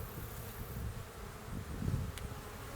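Honey bees buzz steadily around an open Parkinson hive during a frame-by-frame inspection, a dense close drone with a faint click near the end and no voices.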